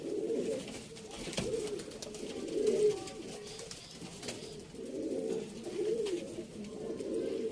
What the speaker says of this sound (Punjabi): ਇਹ ਦੇਖੋ ਕਬੂਤਰ ਭਾਜੀ,